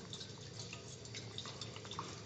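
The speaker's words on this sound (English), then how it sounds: "I'm going to fill it back up full of water" Water trickles and drips steadily into the sight tube on a backflow preventer test cock, soft and close, with no voices.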